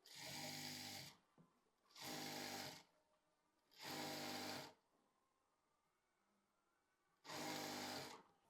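A sewing machine fitted with a regular size 16 needle runs short bursts of stitching on velvet fabric for a Pakistani flapper pant, four close, even runs separated by brief pauses.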